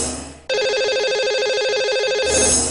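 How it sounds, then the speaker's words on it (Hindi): A telephone rings after a number is dialed for a call-in astrology program, one long, loud, steady electronic ring tone that starts abruptly and runs for nearly two seconds. "चलिए उन्हें नंबर डायल करते हैं।"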